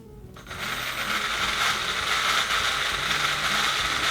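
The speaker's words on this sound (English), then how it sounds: "You can hear it on the sound that it runs pretty fast." A vintage Lego train motor running fast, a steady, close mechanical whir with a gear-like rattle that starts abruptly after a brief quiet moment and holds at an even level.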